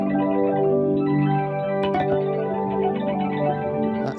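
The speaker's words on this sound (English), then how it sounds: "This preset is one I made up myself, which is a prism shift that goes into a chorus." Ambient electric guitar played through an Eventide H90 preset running a prism shift into chorus, giving sustained shimmering chords with pitch-shifted layers and a slow swirl, one brief attack near the middle, steady and alone without talk.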